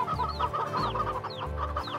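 Chickens cluck up close in a lively, overlapping chatter, with short rising calls repeating every half second or so.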